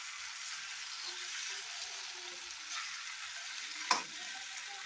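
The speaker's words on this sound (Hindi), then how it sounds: "अब एक तरफ भून चुका है, अब एक तरफ भूनने देते हैं इसे ठीक से।" Vegetables and potatoes fry in a pan with a steady, close broadband sizzle, with a brief stir or clatter near the end and no talking.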